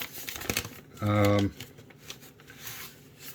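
Crinkly rustling of a yellow paper envelope being handled, with a brief louder crumpling burst in the middle and quieter shuffling around it, close by.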